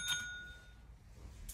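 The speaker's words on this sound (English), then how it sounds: "See, how hard is that to ring the bell?" A small bell gives a quick, faint ding at the start, its ringing tone fading over the following second, with a softer second chime near the end in a quiet room.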